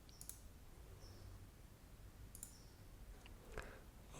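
A computer mouse clicks while a function is saved in a software repository interface: a few faint, sharp clicks spread across a quiet background hiss, with no talking.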